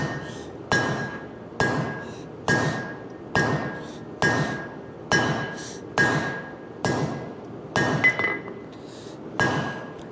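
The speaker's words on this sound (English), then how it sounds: "Now I'm going to forge out the preform of the blade" Heavy hammer blows forge a steel honesuki knife blade preform on an anvil, about a dozen sharp ringing metallic strikes in a steady, evenly spaced rhythm, loud and close with no talking.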